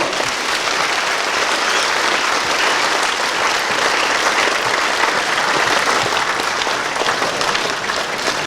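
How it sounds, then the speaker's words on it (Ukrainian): Sustained, dense applause from a crowded hall at a patriotic concert in Zolochiv supporting the armed forces, loud and continuous with no talk over it. "Оплески, будь ласка, голосом."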